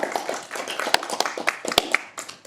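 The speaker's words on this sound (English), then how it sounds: "Let's get another round of applause for Bryan." A speaker-series audience applauds, with irregular hand claps of moderate loudness coming in uneven bursts rather than a full roar.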